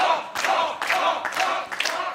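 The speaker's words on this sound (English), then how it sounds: "Listen to that crowd." Shouting crowd of wrestling fans at an NWA event, loud and dense, surging in repeated chant-like waves about every half second to second with no talk over it.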